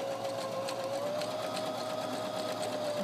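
A sewing machine runs steadily while stitching a quarter-inch seam in fabric, giving a continuous close whirring hum at an even speed for the whole stretch, with no talking.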